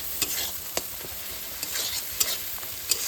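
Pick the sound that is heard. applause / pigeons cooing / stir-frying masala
stir-frying masala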